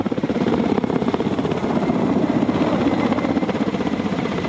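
A Ka-27 ship-based military helicopter flies with a loud, steady rotor thump and turbine roar that stays close and constant throughout.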